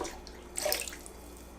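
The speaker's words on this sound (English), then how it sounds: "I'll just pour a little bit into the bucket." Water and vinegar poured into a mop bucket for cleaning hardwood floors, a short splashing pour rising in the middle and fading, heard close and alone.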